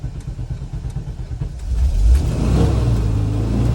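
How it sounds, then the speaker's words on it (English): A 1977 VW T2 Kombi Westfalia campervan engine turns over and catches, then revs up into a loud, steady mid-pitched idle close to the listener. "to start the car, what you're going to do is you press the accelerator halfway and turn the key"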